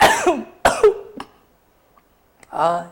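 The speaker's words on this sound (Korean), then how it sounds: "기침" A few sharp coughs with throat clearing, close to the mic, then a brief pause and a short rough vocal sound.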